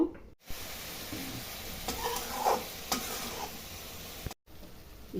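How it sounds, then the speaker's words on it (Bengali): A ground spice paste loosened with a little water sizzles and hisses in a hot pan as it is stirred and fried, with a steady, close frying noise and a brief scraping swell in the middle. "দিয়ে ভালো করে মশলাটা কষিয়ে নিব।"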